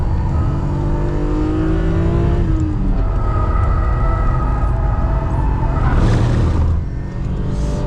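A BMW M3 E36 lapping a race circuit, its engine loud and close, revving up through the gears with rising pitch, briefly dropping at a shift, then pulling hard again.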